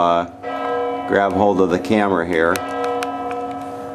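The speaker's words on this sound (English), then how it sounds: "So you can hear the bell going off," A church bell at Wawel Castle in Krakow rings with a sustained, resonant tone that hangs throughout, while someone speaks over it up close.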